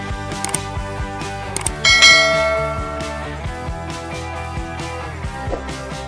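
A bright bell sound effect rings out as a reminder to subscribe, with clear ringing tones and a louder metallic ding that decays smoothly, played over a soft ticking tonal backing.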